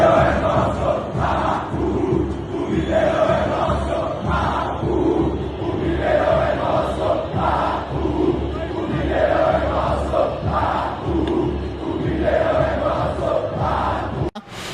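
Corinthians supporters roar and chant in unison inside Mineirão stadium during a semifinal against Cruzeiro, a dense, steady wall of crowd voices with rhythmic swells that continues for the whole stretch.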